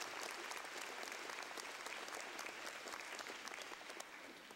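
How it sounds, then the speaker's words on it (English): An audience at an 8th grade recognition ceremony applauds Mrs. Dunges, a continuous, fairly distant wash of clapping from a full hall that eases slightly at the end. "please give her a round of applause"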